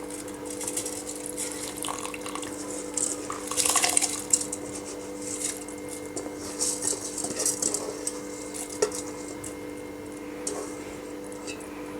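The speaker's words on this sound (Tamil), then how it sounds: "இப்போ அரிசியை சேர்த்தாச்சு" Rice going into a pot of simmering stingray fish biryani, with soft watery sloshing, light drips and a faint rattle of the pot, close and fairly quiet throughout.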